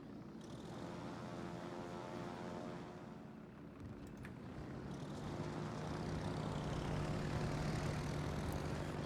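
Carrier aircraft propeller engines in the World of Warships game, a continuous droning hum with steady tonal bands that swells slightly louder toward the end, alone at moderate level.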